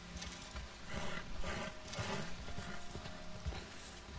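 A horse in the Red Dead Online video game, hooves clip-clopping steadily at close range with an occasional snort, under a dense layer of ambient game sound.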